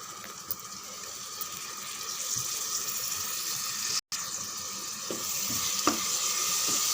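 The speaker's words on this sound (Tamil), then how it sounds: "நல்லா கலந்து விடுங்க." Yogurt is stirred into sizzling chicken biryani masala, producing a steady close frying hiss with a few faint scrapes and a momentary dropout midway, and no talking.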